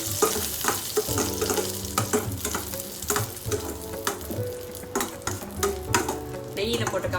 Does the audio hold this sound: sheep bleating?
no